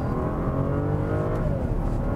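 A 2013 BMW 760Li with a twin-turbo V12 accelerating hard in sport mode from a crawl, a loud steady engine drone rising in pitch, heard from inside the car without talking.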